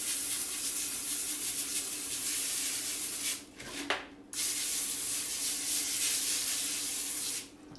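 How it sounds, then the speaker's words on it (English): Extra virgin olive oil cooking spray hisses steadily onto baking pans for dinner rolls, a long, even, close spray with one brief break partway through. "we use the extra virgin olive oil cooking spray. I'm going to lightly do these just so they don't stick"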